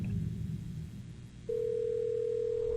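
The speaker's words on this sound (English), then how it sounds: "Answer the phone." A steady telephone dial tone from a handset in the horror video game Dark Fracture, starting abruptly midway after a low murmur of background noise and holding constant to the end.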